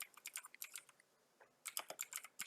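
Someone types code on a computer keyboard in short, quick bursts of crisp key clicks, separated by a brief pause, close and fairly quiet.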